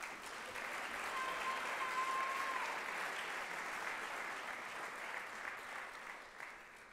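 Steady applause from a large crowd at a school awards ceremony honoring a graduating class, a dense wash of clapping that holds evenly throughout and tapers slightly at the end.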